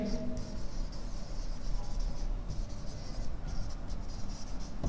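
A pen scratches across paper while notes are written, a soft, continuous scribbling with short pauses, sitting close under a quiet background hum.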